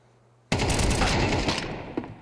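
Rapid burst of automatic gunfire in Counter-Strike, loud and sustained for nearly two seconds, ending in a headshot, with a single sharper crack near the end as the firing tails off.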